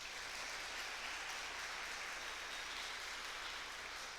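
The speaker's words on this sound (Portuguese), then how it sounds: "Você pode dar uma salva de palmas para eles também?" A church congregation applauds its pastors, a faint, distant wash of clapping that stays even and continuous.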